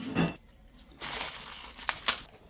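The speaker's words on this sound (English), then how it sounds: "So we want to use some saran wrap. Place your saran wrap over top." Plastic saran wrap crinkles as it is stretched over a container of food, in three short soft rustling bursts close by, fairly quiet, with no talking.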